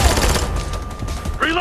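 Sustained automatic gunfire from a squad laying down suppressing fire in Ghost Recon Future Soldier, a dense, continuous rattle of shots close by with battle noise and a shouted voice near the end.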